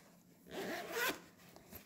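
Zipper on a handmade cross-stitch pouch being pulled open or closed, a single close, quiet zip sweep lasting under a second, heard alone.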